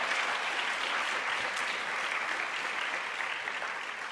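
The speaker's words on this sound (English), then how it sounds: "You may clap for her." Audience at a CUEtalks event gives sustained, dense applause, even and steady throughout with no talking over it.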